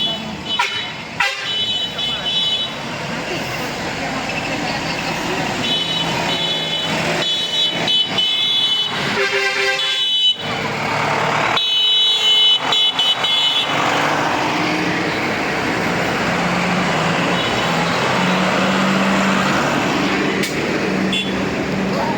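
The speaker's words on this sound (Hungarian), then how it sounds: "jön egy nagyon klassz traktor" Tractors rolling past at a Christmas tractor parade in Mágocs, Hungary, with engine rumble, horn toots and crowd noise, while people talk nearby.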